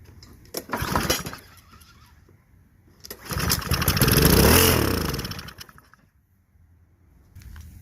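A Honda GCV160 overhead-cam engine on a lawn mower, primed with starting fluid, gives a brief pull-start clatter, then fires and runs loudly for a couple of seconds before dying away, close and alone.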